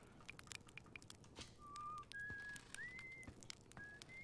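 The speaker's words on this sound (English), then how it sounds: "What was that you were whistling?" A traveler in the video game Outer Wilds whistles a faint, thin melody of a few sliding notes among soft ambient game sounds, quiet and alone without talk.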